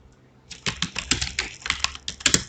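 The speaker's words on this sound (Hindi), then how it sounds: "मैं टाइप करके देखता हूँ, ये टाइपिंग कर रहा है।" Fingers tap quickly on a computer keyboard in a close, uneven run of key clicks, several keystrokes per second, with no one talking.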